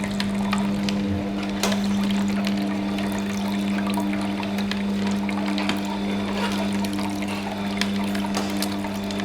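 A Hurom H22 slow juicer cold-presses corn for corn milk, its motor holding a steady low hum under a faint wet trickle and scattered small clicks.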